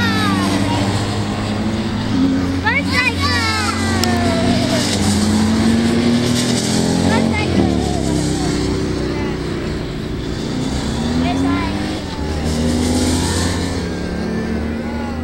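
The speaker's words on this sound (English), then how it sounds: "Motorcycles. There they go." Motorcycles in a presidential motorcade roar past in Palm Springs, engines rising and falling as they sweep by one after another, loud and near, with people talking over the passing traffic.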